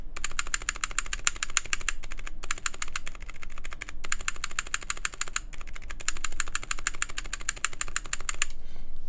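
Rapid typing on a QK Neo65 copper mechanical keyboard with silenced keycaps, dense clacking keystrokes in quick bursts separated by brief pauses, close and crisp.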